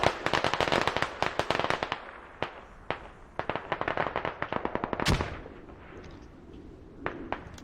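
Rapid bursts of automatic gunfire in a competitive shooter video game match, loud sharp cracks in dense volleys with short pauses and one bigger blast near the end, no talk over them.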